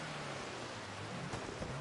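Steady hiss of heavy rain in a rally racing video game, a dense broadband wash with a faint low engine drone running beneath it.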